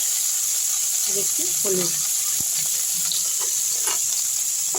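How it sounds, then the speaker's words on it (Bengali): Okra fries in mustard oil in a wok, giving off a steady bright sizzle and hiss throughout, while someone speaks briefly over the cooking. "তাতে একটু সর্ষের তেল দিয়ে ভেন্ডিগুলো ভাজতে ছেড়ে দিচ্ছি"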